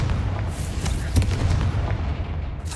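The Confringo fire spell in Hogwarts Legacy bursts with a heavy, booming explosion, followed by rumbling low blasts, loud and close, while a voice speaks over the action.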